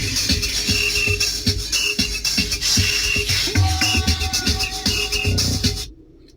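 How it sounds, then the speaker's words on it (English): Car stereo head unit playing music with the subwoofer disconnected, a steady rhythmic track with a clipped low end, then cutting off abruptly near the end. "So that's what the car sounds like without the subwoofer."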